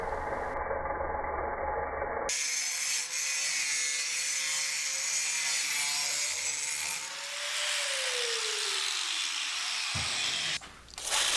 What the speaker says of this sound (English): Using an angle grinder, I cut it to the length that I wanted.